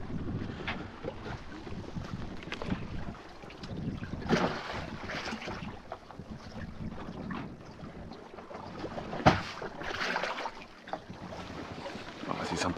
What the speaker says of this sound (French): Ah, c'est sympa ces petits bruits d'eau qui ruissellent comme ça.